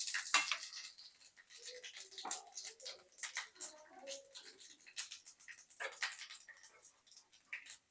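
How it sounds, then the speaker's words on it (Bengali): Panch phoron spices crackle and sizzle in hot oil in a wok after dried red chillies, with scattered pops and metallic clinks of a utensil against the pan, close and fairly quiet. "এখন আমি এর মধ্যে দিয়ে দিচ্ছি পাঁচ ফোড়ন।"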